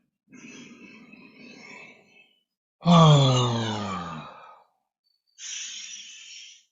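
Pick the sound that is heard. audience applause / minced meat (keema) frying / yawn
yawn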